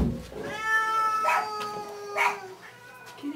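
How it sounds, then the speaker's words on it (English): A cat meows loudly and close by, two drawn-out, wavering calls in a quiet indoor setting, with a faint rustle between them. "Look at this kitty."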